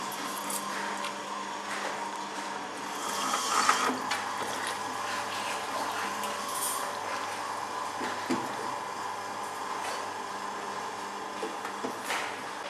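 A table-top orange juicer machine squeezes oranges with a steady mechanical hum and watery churning, broken by occasional louder squishes and knocks, running at close range for the whole stretch with no one talking.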